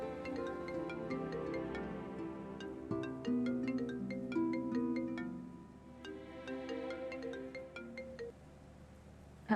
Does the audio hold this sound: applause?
no